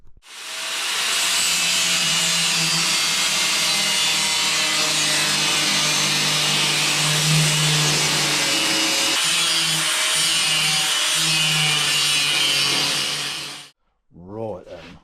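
A hand saw cuts steadily through wood to shape a part for a Norton bobber motorcycle, loud and close with a continuous rasping stroke for about thirteen seconds before stopping, followed by a brief knock.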